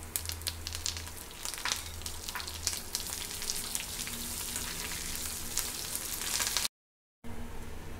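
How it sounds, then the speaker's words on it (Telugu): Ginger garlic paste, curry leaves and green chilies frying in oil for a green gram curry crackle and sizzle densely up close, broken by a brief gap of silence near the end. "అల్లం వెల్లుల్లి పేస్ట్ కూడా ఫ్రై అయిపోయిందండి."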